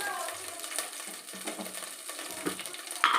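Oil splutters in a pan while masala fries for North Karnataka style uppittu kaara, with chilli powder being added: a soft, close crackling sizzle with occasional clinks from stirring.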